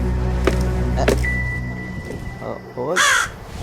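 A crow caws harshly a few times in a 3D horror video game over a low steady hum, with a short spoken exclamation near the start.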